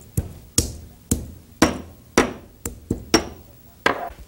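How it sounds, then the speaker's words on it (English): Around four cardamom pods are crushed with a mortar and pestle, giving nine sharp, knocking strikes at a steady, slightly uneven pace, each ringing briefly. The sound is close and heard alone. "Let's put it in our mortar and pestle here."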